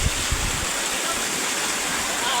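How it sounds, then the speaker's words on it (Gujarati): Floodwater rushing through Khamidana village in Keshod taluka after heavy rain, a continuous broad roar of flowing water, loud and near, with brief voices at the start. "જોરદાર પાણી છે અમારા ગામમાં અત્યારે."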